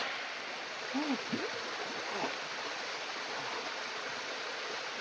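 Water rushes steadily down a stream and waterfall in Matilija canyon, a broad continuous roar, with faint voices briefly heard in the background.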